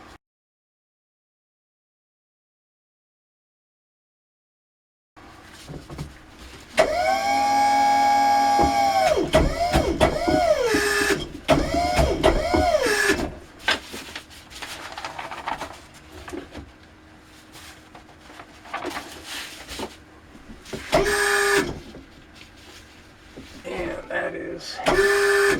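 A press works on pyrotechnic star composition being compressed to about 2,000 psi, with mechanical whining and pumping strokes, clunks and rattles, close by and mixed with ongoing speech.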